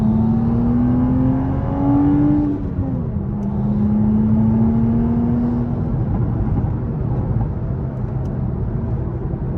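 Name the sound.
manual Toyota Supra B58 engine with catless downpipe exhaust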